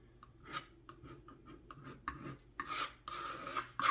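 A palette knife scrapes pure phthalo blue paint across a canvas to shape mountains. It is a series of soft, close, dry rasping strokes, short and irregular at first, then longer and louder toward the end.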